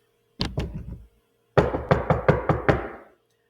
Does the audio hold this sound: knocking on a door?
yes